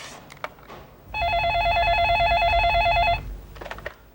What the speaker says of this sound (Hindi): तुम्हारे लिए फोन है